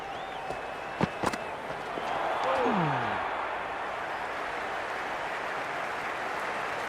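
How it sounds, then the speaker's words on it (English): A stadium crowd in the Cricket 26 video game gives off a constant broad roar of cheering, with a few sharp knocks early on and a commentator's voice speaking over it. "It's evident and ever so audible that the crowd is at near bursting point at today's play."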